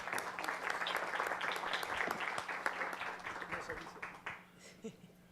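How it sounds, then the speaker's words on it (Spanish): Audience applause at an impact-measurement workshop for funds and startups, a dense steady patter of many hands that thins and fades out over the last second. "También un aplauso."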